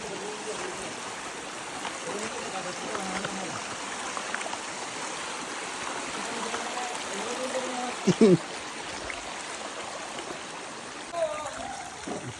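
Water from a forest waterfall and stream rushes steadily and close by throughout, with brief faint voices breaking in near the end.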